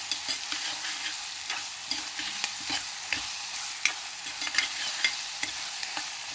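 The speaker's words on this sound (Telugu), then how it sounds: "కర్రీకి సరిపడా ఉప్పు వేసేసుకుంటే ఉల్లిపాయలు తొందరగానే వేగుతాయి" Onions fry in a pan for mutton curry, giving a steady close sizzle punctuated by repeated scraping clicks as they are stirred, with no speech.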